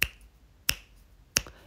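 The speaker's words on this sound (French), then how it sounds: "une noire va durer juste un claquement de doigts" Three sharp, close finger snaps ring out at an even, slow tempo, each a crisp isolated crack spaced about two-thirds of a second apart in quiet surroundings.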